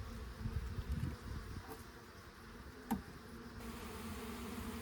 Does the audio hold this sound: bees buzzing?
yes